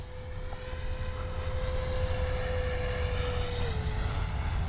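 A Freewing F-16 70mm electric ducted-fan RC jet with a model afterburner flies overhead, making a continuous steady whine and rushing roar at moderate distance, without pauses.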